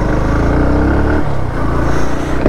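A 2022 Bajaj Pulsar NS160 BS6 motorcycle drones loudly at about 50 km/h during a brake test. The engine note dips briefly midway, then steadies again.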